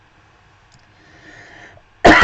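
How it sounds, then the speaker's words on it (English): A single loud, close cough from an adult with sniffles, bursting out abruptly after near silence. "I've got a bit of a cough today, which is not great."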